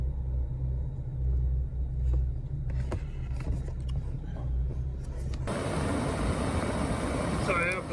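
Air conditioning blower of a Honda Fit running on high with a stinky evaporator, a steady broadband whoosh under a low rumble that turns louder and brighter partway through, with a person talking over it.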